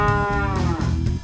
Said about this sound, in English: Cow, farm raised